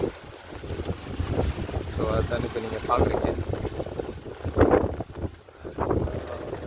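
Strong southwest monsoon wind blows through trees in Sri Lanka, a gusty, buffeting rumble that swells and fades under someone speaking.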